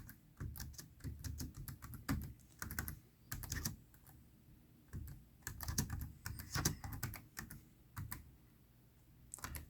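Keys clatter on a Raspberry Pi 400 compact keyboard in quick close bursts of typing, with brief pauses between runs of keystrokes.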